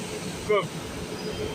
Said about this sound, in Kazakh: Мінекей өте ұзын, ұзындығы мынау электричканың өте ұзын.